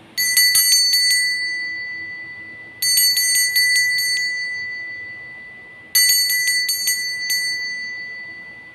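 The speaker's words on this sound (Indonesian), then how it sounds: "Kita akan memulai dengan ditandai lonceng berbunyi." A small bell rings three times at even intervals, each a quick flurry of bright metallic dings that fades slowly before the next.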